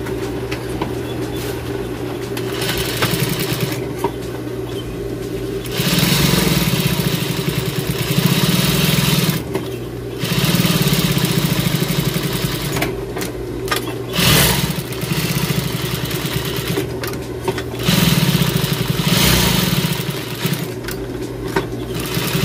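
A sewing machine runs in bursts while stitching a round rag rug, its motor buzzing and whirring close up, stopping and restarting several times between runs.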